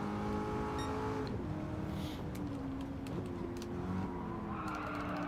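Race cars roar around the Nürburgring circuit in Gran Turismo 7 on PS5, engines whining and shifting pitch with a brief tire squeal, steady and moderately quiet, without talk.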